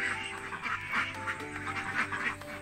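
Laying ducks quacking in a pen, several birds calling in a busy, overlapping series of harsh quacks that continue steadily at moderate distance without talk.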